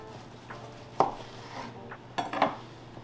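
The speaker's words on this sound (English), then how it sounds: "So what we're gonna do is we're gonna cut it in half" Knife clacks against a board while splitting a smoked tri-tip in half, a few sharp knocks with two louder ones close together, near and fairly quiet with no talk.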